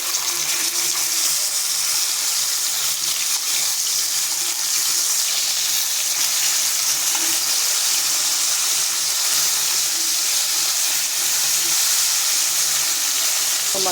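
Fish pieces sizzle and crackle in hot oil in a pan, a dense, continuous frying hiss that fills the whole stretch, close and steady, with no talking.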